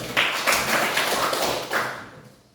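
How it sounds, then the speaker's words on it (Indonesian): A small group of students claps in a classroom, a few sharp bursts of hand claps close by that fade away toward the end. "Tepuk tangan dulu."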